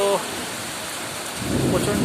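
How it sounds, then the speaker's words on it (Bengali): Heavy rain falls in front of a verandah during a Kalbaishakhi storm, a loud steady wash, with a low rumble of thunder swelling near the end. "এই দেখুন আমাদের বারান্দার সামনের জায়গা, প্রচণ্ড বৃষ্টি,"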